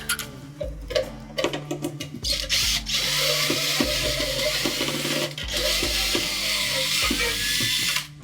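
Power driver backing screws out of a foam hand soap dispenser: loud whirring bursts with ratcheting clicks, broken by short pauses as each screw comes loose.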